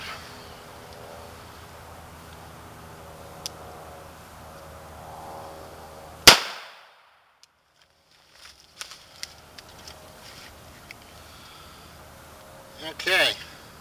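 A .442 Webley revolver fires a full-power bullet into wood with one sharp, loud crack, and near-silence follows; a few faint knocks come after.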